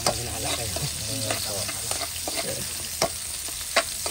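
Onion and garlic sizzle loudly in a hot pan, with crackling fry noise and several sharp clanks and scrapes of a utensil stirring against the metal, close up and without talking.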